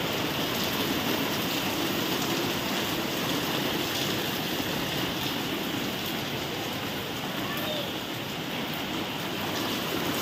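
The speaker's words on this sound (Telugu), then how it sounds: "చూడండి ఫ్రెండ్స్, వర్షం పడుతుంది, సౌండ్ వినిపిస్తుంది ఓన్లీ. చూడండి డ్రమ్ములో చినుకులు పడుతున్నాయి." Heavy rain pours down steadily outdoors, a dense continuous roar of falling water with drops pattering into a drum, loud and unbroken with no voices.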